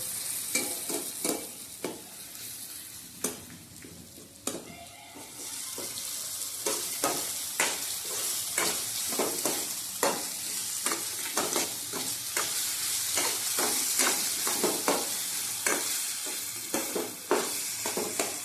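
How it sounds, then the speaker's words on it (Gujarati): Raw mango pieces cooking in oil in a pan, a steady close sizzle punctuated by repeated sharp scrapes and clacks of stirring throughout. "થોડીક વાર આપણે આને તેલમાં તેલમાં ચડવા દેવાના છીએ"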